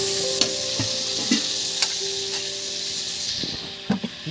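Potatoes for a chicken curry fry in a pan of oil with a steady close sizzle, broken every half second or so by the sharp clack of a spoon stirring against the pan.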